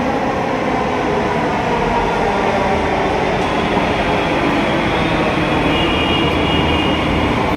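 A Delhi Metro train rumbles at a metro station, a loud, continuous roar of wheels and motors that holds steady from start to finish with no talk over it.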